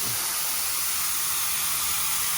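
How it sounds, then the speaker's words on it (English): A steady, close airy hiss of a spray gun set to a narrow pattern, painting a 1970s Mercedes, continuous and even with no pauses. "I've set it to a really pointy sort of spray bit,"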